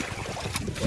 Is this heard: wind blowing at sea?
yes